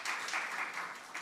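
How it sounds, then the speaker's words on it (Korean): Brief, steady applause from a church congregation at a Sunday worship service, giving encouraging claps for a member, moderately loud and even with no break. "격려의 박수 드리고요"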